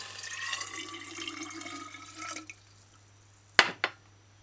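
Water pours into a kitchen blender jar for a homemade chicken seasoning, a soft splashing trickle for about two and a half seconds, followed by a couple of sharp knocks.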